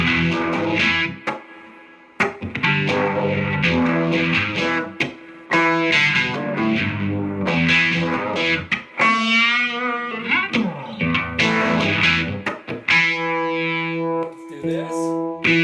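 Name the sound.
electric guitar with distortion, Univibe-style effect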